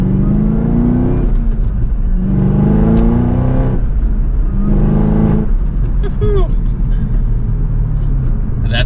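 A 2023 Chevrolet Camaro ZL1 revs its engine and exhaust in three loud, rising bursts that drop back to a deep idle between pulls, with a person talking over part of it.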